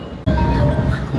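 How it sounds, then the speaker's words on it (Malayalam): A Sydney train starting to move, heard from onboard as a sudden low rumble that swells in with a faint rising motor whine, close and fairly loud. "അപ്പോൾ ട്രെയിൻ സ്റ്റാർട്ട് ചെയ്തിട്ടുണ്ട്"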